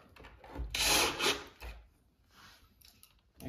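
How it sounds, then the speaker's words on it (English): Screws are driven into a tall wooden storage unit, giving a couple of close, brief grinding and rasping bursts followed by fainter scraping and scuffing. "Install these screws."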